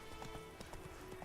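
Hooves clip-clop at a steady walking pace under a horse ridden through a fantasy game world, quiet and close beneath a low background hum.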